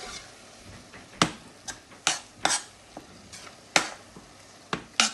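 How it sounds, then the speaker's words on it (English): Meat frying in a pan for a meat pie filling, with a utensil stirring and scraping at irregular moments; sharp close clacks over a soft steady sizzle, no talking. "you can see the meat is in the cooking stage now"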